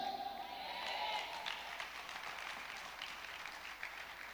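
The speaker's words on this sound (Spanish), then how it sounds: "Dele eso, no sea escaso, dele ese aplauso." A church congregation applauds as a steady, soft wash of clapping that stays even throughout, heard from a distance at low volume.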